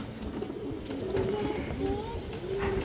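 A female pigeon offered for sale gives a few soft, low coos close by against faint background noise.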